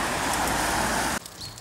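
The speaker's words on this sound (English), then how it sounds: "Here is a bridgey thing with lots of cars" Steady broadband roar of cars crossing a bridge in countryside, loud and continuous, then cutting off abruptly to a quieter background with faint traffic hiss.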